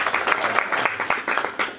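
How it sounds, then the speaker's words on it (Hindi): Audience applause at an evening flute (bansuri) mehfil in Alipur Chatha, a dense, steady burst of many hands clapping close by, filling the whole moment without talk. "एक दफा अपने सबके लिए तालियां हो जाए।"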